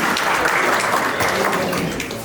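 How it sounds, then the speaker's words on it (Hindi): A crowd at a residents' meeting of a building complex breaks into steady applause, dense clapping that holds throughout and fades slightly at the end. "तालियां।"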